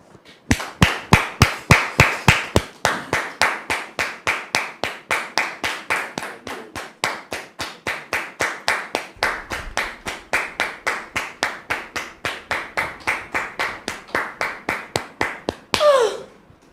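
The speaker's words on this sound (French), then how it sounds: "Merci de recevoir David ici maintenant sous vos applaudissements" An audience welcoming a guest onto a stage claps in steady unison, a crisp, evenly spaced beat of about three claps a second that holds for the whole stretch before breaking off at the end.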